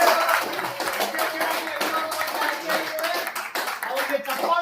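Applause for a newly elected president at a journalists' association election in Madhugiri taluk: a room of people clapping steadily and fairly close for several seconds, with voices talking faintly underneath.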